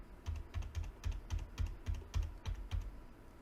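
Repeated presses of the 1 key on a computer keyboard while testing a Unity game, about ten soft clacking keystrokes in a fairly even rhythm, close and quiet with no talking.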